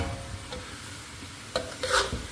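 Catfish stir-fried in a pan, brief scraping stirs over a low sizzle, with a couple of louder spatula strokes near the end and no talking.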